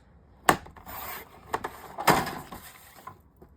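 A paper trimmer slices through patterned Graphic 45 scrapbook paper, giving two sharp scraping strokes with short rubbing slides of the blade and paper between them, close and fairly quiet, with no talking.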